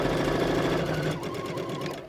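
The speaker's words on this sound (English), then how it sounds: "we're going to stitch the rest of the way down" A sewing machine stitches a fabric seam for a centered lapped zipper, running with a steady rapid mechanical whir and chatter from start to finish, close and unbroken.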